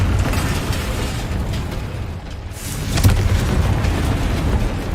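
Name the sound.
Confringo explosion spell blast in Hogwarts Legacy video game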